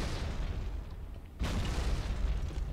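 A grenade blast in Halo 2 bursts out midway, a sudden broad boom that lifts the rumble after a brief lull, with no talk over it.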